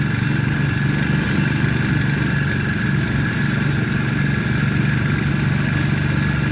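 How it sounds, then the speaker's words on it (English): A cheap Chinese four-stroke outboard motor, a knockoff of a Mud Skipper built for a kayak or paddleboard, idles steadily with a close, constant engine drone and mechanical clatter that stays level throughout. "That's pretty quiet, man, for a Chinese 4-stroke."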